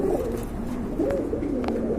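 Pigeons at a pigeon sale cooing in low, repeated throaty calls that overlap continuously, close and moderately loud, with no voices.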